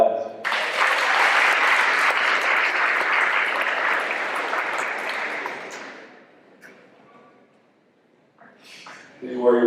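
At a football banquet, a crowd breaks into loud, sustained applause that fades out after about six seconds, followed by a quiet pause before talking resumes.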